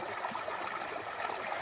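Creek water flows steadily beside a shady parking spot along the Appalachian Trail in New Hampshire or Maine, a soft continuous trickle and gurgle close by with no talk over it.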